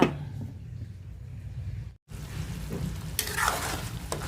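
Saba bananas cooking in oil in a pan of humba, giving a steady, close sizzle and frying hiss with stirring scrapes, a brief gap midway, then continuing without talk.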